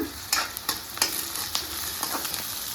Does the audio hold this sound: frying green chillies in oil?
yes